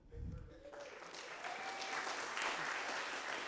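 Audience applause at a community college district board of trustees meeting, starting after a brief low rumble and swelling into a steady wash of clapping that holds to the end.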